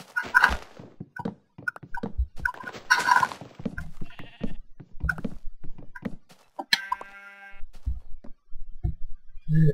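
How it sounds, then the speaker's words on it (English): Minecraft sheep bleating in short, scattered calls among blocky thumps and chopping hits, close and fairly loud, with an item pickup chime partway through. "Come away, sheep."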